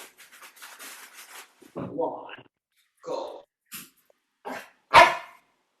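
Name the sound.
small dog barking in the room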